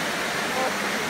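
Water flowing in a forest stream, a dense, steady broadband rush close to the microphone with no break.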